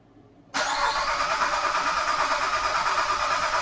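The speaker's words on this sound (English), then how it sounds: "And then I'm going to go crank the engine again." A car engine cranks briefly and catches, then settles into a steady, loud idle close by during starter voltage drop testing.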